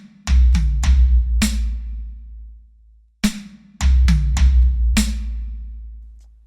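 A slow drum fill moving across snare, floor tom and high tom, played as two groups of distinct strokes separated by a short pause, each hit ringing out closely with no talk.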